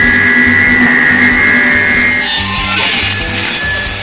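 Steady rhythmic rasping of a hand saw cutting wood, strokes repeating back and forth, loud and close, with a brighter harsher scrape toward the end.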